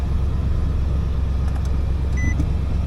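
A 2019 Nissan Titan pickup idles just after starting, a steady low engine rumble close by with a faint brief electronic beep partway through.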